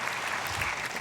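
Dense, steady clapping from a church congregation applauding in blessing at a dawn prayer meeting, a brief continuous wash of applause with no voices.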